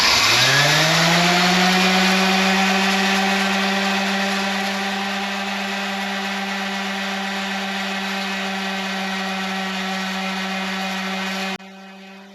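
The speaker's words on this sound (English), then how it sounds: "I'll fire up the sander and kind of just give this a bit of a go. This is just 400 grit sandpaper." A power sander fitted with 400 grit sandpaper works on an alternator tensioner. The motor spins up into a loud, steady tonal whine, holds close and constant for about eleven seconds, then cuts off abruptly.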